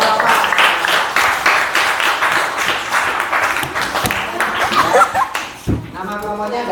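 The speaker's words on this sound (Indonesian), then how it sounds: "Tepuk tangan untuk kelompok nggak tahu apa." A class at a coding lesson claps for a student group in a loud, close burst with scattered chuckles, and the clapping fades into speech near the end.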